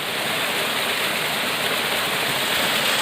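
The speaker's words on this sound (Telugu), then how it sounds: "ఇది జలపాతం బాగా ఉన్నప్పుడు హైట్ కనిపిస్తుంది చూసారా" A waterfall roars as a dense, steady rush of falling water, loud and unbroken throughout.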